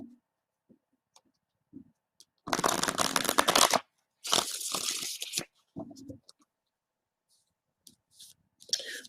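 A deck of playing cards is shuffled in two short riffling bursts, each about a second long, separated by brief quiet gaps with a few small clicks.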